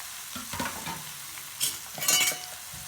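Raw green mango chips and onion shallow frying in a pan, with soft sizzling, spoon stirring and a couple of louder clatters against the pan, no voices.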